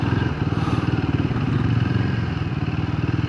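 A Royal Enfield Guerrilla 450 Apex runs loud and close with a steady throbbing engine note. Its pulsing exhaust keeps a strong rhythm throughout, and no voices are heard.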